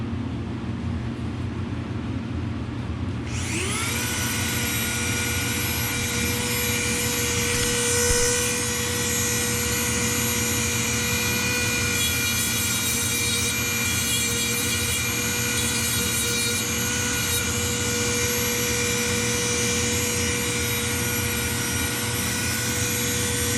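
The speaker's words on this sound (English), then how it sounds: "I'm going to try to bevel this side now" A steady, loud power tool starts abruptly and holds a high whining drone with strong tonal overtones while beveling the edge of a plastic water bottle flip-cap during an epoxy repair, running continuously at close range without speech.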